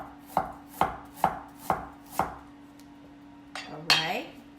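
A knife chops ginger slices on a cutting board for black pepper shrimp, five evenly spaced crisp knocks close by, followed by a brief clatter of a dish or utensil, with a low steady hum underneath.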